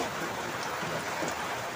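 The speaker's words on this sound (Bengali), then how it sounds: "আজকে বৃষ্টি যে কি শুরু করে দিল।" Steady rain falls outside a home kitchen, a dense, even hiss of drops that runs unbroken and fairly loud throughout, with no voices.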